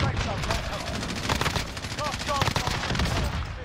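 Rapid bursts of gunfire from the Warzone video game crackle almost nonstop, close and loud, with layered automatic volleys and single shots overlapping throughout.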